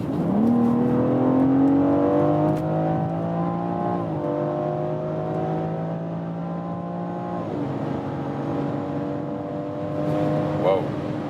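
A 2020 BMW X4 M Competition engine revs up through the gears, pitch rising, dropping at each shift and climbing again, loud and sustained from inside the car while driving on winter tires.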